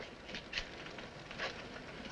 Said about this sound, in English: you'll get soaked. Wait until the rain stops